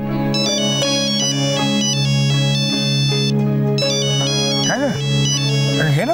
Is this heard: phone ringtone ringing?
yes